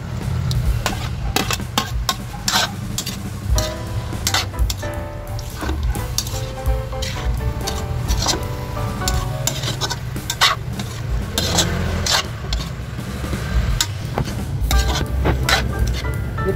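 Pork tenderloin and onions stir-fry in a pan, a continuous loud sizzle broken by frequent scraping and clinking strokes of a utensil against the pan.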